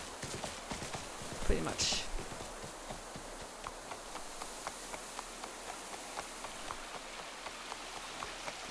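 Horse hooves clopping on a hard surface in the video game Windstorm, a steady faint rhythmic clip-clop under soft ambient rain-like noise, with a brief spoken remark partway through.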